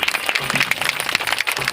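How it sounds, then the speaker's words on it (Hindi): Loud, dense applause from a crowd at a civil police parade in Barabanki, greeting the chief guest's vehicle and the troop commander's command, continuous and close for the whole stretch, with a faint voice or tone threading underneath. "जोरदार तालियां बजती रहे आपकी"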